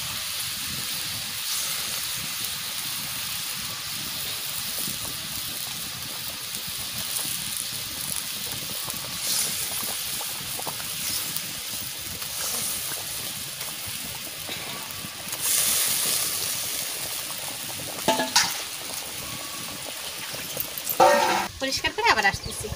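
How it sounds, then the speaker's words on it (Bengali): Tilapia fish frying in hot oil gives a steady, dense sizzle throughout, with louder clattering stirs and pan knocks near the end. "মাছ ভাজা"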